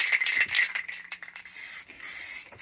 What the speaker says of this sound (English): we're going to give this another spray